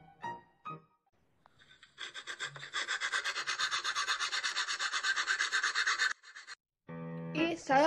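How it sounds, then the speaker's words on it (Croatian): A small hand saw cuts through wooden popsicle sticks for a model boat, producing a fast, even series of close rasping strokes that run for several seconds before stopping. "I sada ta mjesta treba odsjeći sa pilicom."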